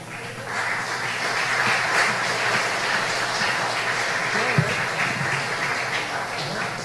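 Dense, steady applause fills a hall at an award tribute honouring Belizean patriots, a continuous wash of many hands with a faint murmur beneath it and no single voice standing out.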